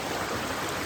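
A river stream rushes steadily, a continuous broad watery roar heard close by.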